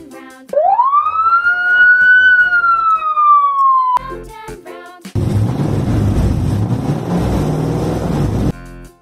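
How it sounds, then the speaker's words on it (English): A police siren wails once, sweeping up and slowly sliding down. It cuts off and gives way to a rough, noisy engine-like roar. "Police car."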